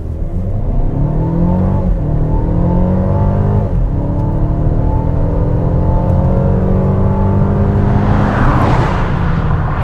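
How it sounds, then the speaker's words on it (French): A Mercedes GLB family SUV accelerating at full throttle in sport mode, its engine loud and close as revs climb steadily through successive gear changes, with rising whine and no talking. "Là, je vais faire une petite accélération à fond en mode sport."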